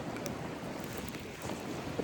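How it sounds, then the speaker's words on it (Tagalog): Steady wind roars and buffets the microphone in a continuous rushing noise, with no voices. "Lakas ng hangin."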